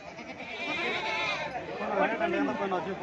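Goats bleat several times at a market, wavering calls layered over a busy background of people talking nearby.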